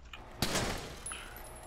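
Gunfire at a car in the GTA 5 video game: a sharp loud shot rings out, followed by a fainter second report and a thin metallic ring.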